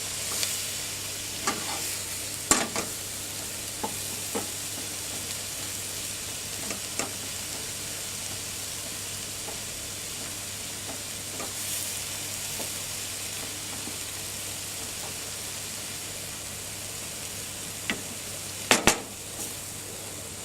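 Chicken sizzles steadily in a frying pan for a pasta bake, a constant close frying hiss broken by a few sharp clicks and scrapes of a utensil against the pan, with no talking.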